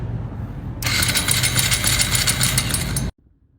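A 2025 Honda Grom motorcycle with a damaged, rebuilt clutch starts in a parking lot: loud steady engine running for about two seconds with rattly mechanical noise, then cutting off abruptly, alone without talk.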